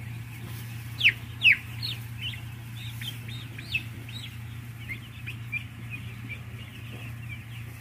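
Broiler chickens in a closed-house coop at night cluck softly and intermittently, with a couple of louder calls early on, over a constant low ventilation-fan hum.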